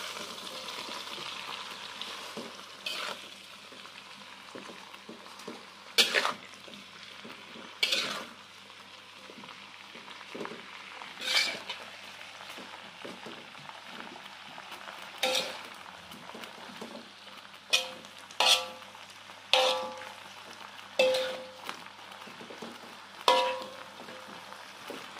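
Kangkung (water spinach) stir-fried in a pan, a steady close sizzle with repeated sharp scraping and clinking strokes of a utensil against the pan as the greens are tossed.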